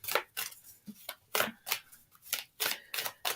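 Healing Waters oracle cards being shuffled, about ten crisp papery riffles in an even, quick rhythm, close and fairly loud with no talk over them.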